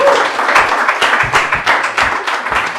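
Game show audience at a couples contest applauds a pastor with loud, close, continuous crowd clapping that pulses slightly throughout.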